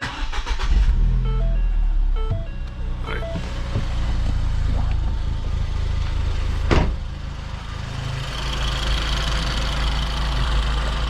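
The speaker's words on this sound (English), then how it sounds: "then we'll get the engine running" A warm car engine is cranked and catches, then settles into a steady low idle with a rumbling hum and some clicks and chimes close by, no voices.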